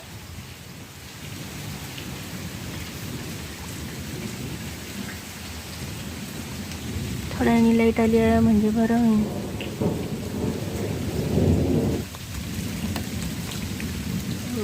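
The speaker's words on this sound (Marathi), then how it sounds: "एवढा एवढा पाऊस भरपूर झालाय" Steady heavy rain pours throughout, with a voice speaking briefly midway over the downpour; no distinct thunderclap stands out.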